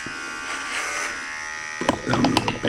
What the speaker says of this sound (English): first we're gonna start shaving down with this